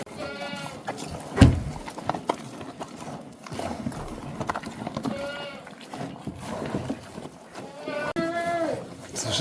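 Goats bleat repeatedly on a farm, the calls rising in several separate bursts, with a loud thump near the start and other farm noise and faint voices around them.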